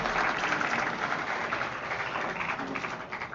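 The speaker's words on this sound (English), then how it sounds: "Can we have a huge round of applause" An audience at an infrastructure management conference gives a round of applause, a steady patter of many hands clapping in a hall, tapering slightly toward the end.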